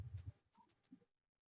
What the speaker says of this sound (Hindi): मैं यहाँ पे लिख दे रहा हूँ